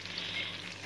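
Belyashi, meat-filled pies, fry on low heat with a soft, steady sizzle. The crackle of oil is faint and close and carries on with no speech.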